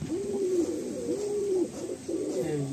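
Madrasi pigeons in a loft coo in repeated rolling phrases, three or four clear calls close by over a soft background murmur, with no talking.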